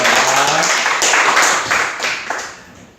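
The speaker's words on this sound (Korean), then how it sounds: "하나님께 영광 올리는 박수 다시 한번." A church congregation claps together in a steady burst of applause at a Sunday morning worship service, loud at first and then fading away.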